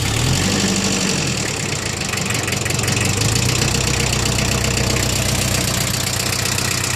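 A Mitsubishi MT2201 compact tractor's 4-cylinder diesel engine idles close by, a loud, steady, knocking rumble that runs unbroken throughout.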